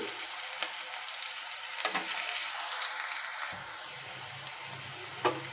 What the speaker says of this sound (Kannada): ಲೈಟಾಗಿ ಬ್ರೌನ್ ಕಲರ್ ಬರೋವರೆಗೂ ಬೇಯಲಿ.